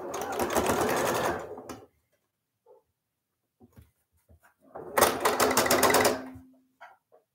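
A home sewing machine stitching a pinwheel sawtooth star quilt block, running in two close, busy bursts of rapid mechanical clatter about two seconds each, separated by a few seconds of near silence with small clicks.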